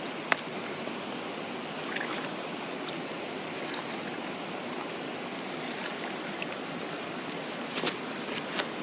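A cooking pot being washed and rinsed in a woodland stream, a steady close trickle and wash of moving water with a few small splashes and knocks near the end.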